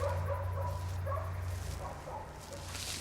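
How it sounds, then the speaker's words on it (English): Dogs barking in a Goosebumps episode, a few faint yips and barks heard at a distance over a low steady hum. "He's looking out the window because he hears barking dogs."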